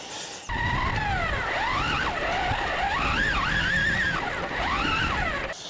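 A fast RC car is driven off-road, its electric motor whining loudly and sweeping up and down in pitch as it accelerates, slows and turns, with gritty rumbling from the rough ground beneath.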